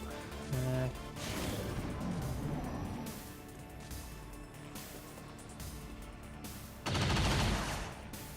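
Rapid automatic gunfire from the XCOM 2 video game, with sustained bursts of shots and heavy loud blasts near the start and end, alone with no talk.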